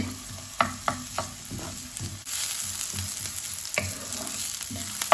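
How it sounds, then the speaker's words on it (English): Onion sizzles in a splash of hot oil in a frying pan, opening with a few sharp stirring scrapes and knocks before settling into a continuous close frying hiss with occasional clinks. "I'm just going to go in with the onion first, just to brown that off."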